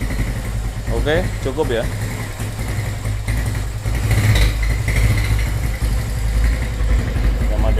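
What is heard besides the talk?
Suzuki GL100 motorcycle engine idling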